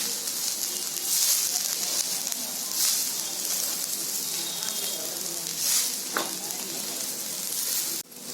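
Coconut and garlic roasting with masala in a hot pan, a continuous close bright sizzle with faint scraping of a spatula now and then, no talk over it.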